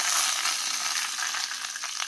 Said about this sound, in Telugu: ఇప్పుడు వేగిపోయిన ఈ పోపుని అయితే పచ్చిపులుసులో వేసేసుకుందాము.